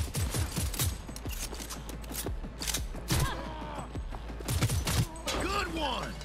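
Rapid gunfire from a weapon in the video game Cyberpunk 2077, bursts of sharp shots repeating through busy combat noise, with a voice talking over parts of it.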